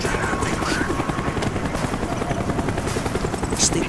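A helicopter in Call of Duty: Black Ops fills the scene with a steady, loud rotor chop that pulses evenly throughout, close and dominant with no pauses.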